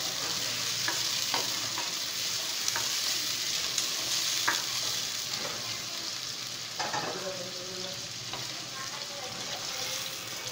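Onions frying in oil for a restaurant-style beef green karahi make a steady, close sizzle with scattered clicks and scrapes of stirring throughout; no one speaks.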